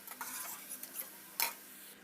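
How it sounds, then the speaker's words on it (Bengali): Vegetables lightly fried and stirred in a pan for mixed fried rice, quiet spoon scrapes and clicks against the pan, one sharper knock, under a faint steady sizzle. "একটু হালকা হালকা করে ভাজবো"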